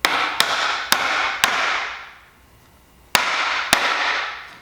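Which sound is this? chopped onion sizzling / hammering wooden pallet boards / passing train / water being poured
hammering wooden pallet boards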